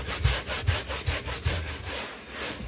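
A van being scrubbed by hand, about four or five quick rhythmic brush strokes close by, then a softer fading rub at the end, with no talking.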